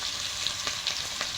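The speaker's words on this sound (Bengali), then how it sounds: "তেলটা গরম হয়ে গেছে। এবার পেঁয়াজ দিয়ে দেবো, পেঁয়াজ কুচি।" Chopped onion hitting hot oil for a mutton curry, giving a steady, close hiss of frying with a few faint crackles and light stirring taps, no voices.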